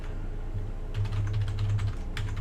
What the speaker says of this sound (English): Do some typing real quick.